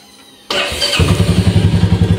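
A Royal Enfield Meteor 350 motorcycle on its stock exhaust cranks and fires after a brief quiet, then settles into a close, loud, steady thumping idle with an even pulse.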